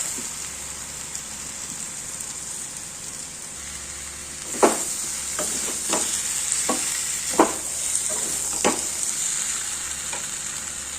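Potatoes and boiled green jackfruit go into a sizzling curry: steady frying hiss throughout, with several sharp clatters and stirring scrapes near the middle and end, fairly close and with no voices.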